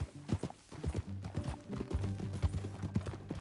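Horse hooves clip-clop in a brisk, uneven rhythm while riding in Red Dead Redemption 2, close and clear with a faint whinny-like tone.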